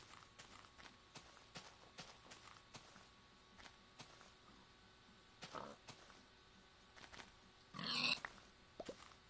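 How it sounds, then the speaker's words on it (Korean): Pigs in a video game make scattered grunts and oinks amid light footsteps and clicks, with one louder snort-like burst near the end; faint overall. "돼지가 많네요."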